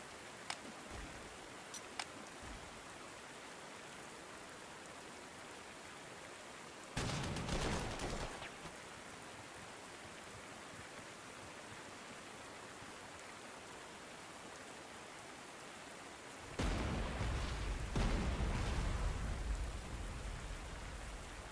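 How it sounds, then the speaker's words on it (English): Rain in the strategy game Panzer Corps 2: a quiet, steady patter of falling rain, broken by two louder bursts of rough noise, one brief and one longer near the end. "More rain, okay."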